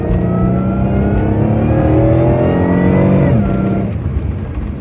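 A car engine with a cylinder misfire floored at full throttle, rising in pitch steadily over several seconds, then the revs drop sharply as the throttle lifts, loud and close from inside the car, with no talk.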